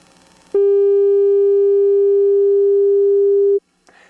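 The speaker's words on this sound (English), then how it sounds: "Basically, it's going to play a frequency." A steady pure electronic tone holds for about three seconds at constant pitch and loudness, then cuts off abruptly into near silence.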